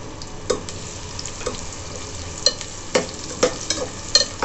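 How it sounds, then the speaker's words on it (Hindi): Onions frying in hot oil over a low flame, a steady soft sizzle with scattered clinks and scrapes from stirring, heard close. "इसको लाइट ब्राउन होने तक भूनेंगे।"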